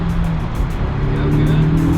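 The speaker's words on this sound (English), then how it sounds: "Go ahead and start accelerating. Okay, keep going, keep going, keep going. Okay, second gear." A Porsche accelerates hard in second gear on a driving course, the engine note loud and steady throughout with a sustained rising tone, and a voice faintly underneath.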